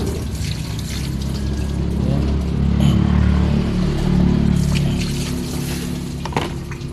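A hose sprays steadily across a Toyota Vios engine bay being rinsed after aluminum cleaner, making a loud, continuous hiss and splatter that swells and eases slightly throughout.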